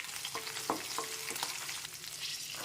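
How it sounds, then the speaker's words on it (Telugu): Green chillies hit hot oil with mustard seeds and cumin in a pan, giving a close, bright crackling sizzle with a few sharp pops and spatters, no talking. "నూనె వేసుకొని ఆవాలు జీలకర్ర వేసాను,"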